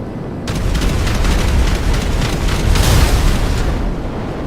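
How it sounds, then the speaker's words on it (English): Loud, sustained rapid cannon fire from a P-996 Lazer jet roars continuously in GTA 5 Online, with rumbling impacts and explosions tearing into a Nightshark armored vehicle, a dense barrage lasting several seconds. "Let's just look at how fast the cannons can destroy an armored vehicle."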